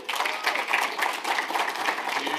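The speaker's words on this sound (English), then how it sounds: "Big round of applause." Conference attendees applaud a speaker at a fintech event, producing a steady, dense burst of clapping throughout with no talk over it.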